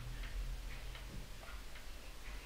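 A wall clock ticks in a steady, regular rhythm, faint and close, alone in a quiet room with a low background hum.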